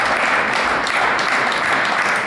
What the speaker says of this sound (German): Sein Papa klatscht.